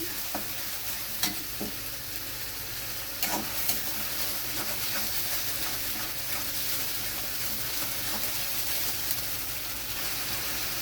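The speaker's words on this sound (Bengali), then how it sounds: "পেঁয়াজের পেস্ট পেঁয়াজটা দিয়ে একটু আমি খুঁজে দিয়ে নেড়ে নিচ্ছি" Onion paste sizzles and fries in a pan while being stirred. A continuous bright frying hiss is broken by occasional scraping stirs and small pops, close up with no talking.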